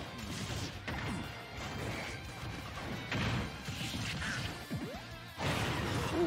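In a Super Smash Bros tournament match, forward smash attacks land with sharp, crunching hits over busy game music and effects, with a few louder impacts standing out.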